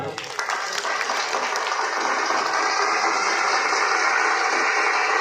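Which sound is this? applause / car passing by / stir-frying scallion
applause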